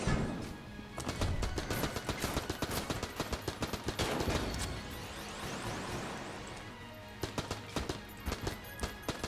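Rapid AK rifle fire in Enter the Gungeon, steady trains of loud, evenly spaced shots dominating a cluttered mix of game effects and music.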